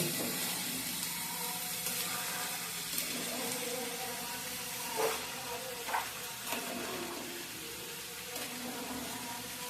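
Chickpeas stirred and frying in spice masala in a pan, a steady close sizzle with occasional scraping stirs of the spoon rising briefly above the hiss.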